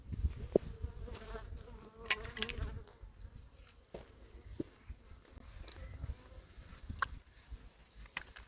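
Honeybees buzz during an autumn inspection of a breeding-colony hive split, a low, steady insect drone with scattered sharper buzzes of single bees passing close, moderately loud throughout.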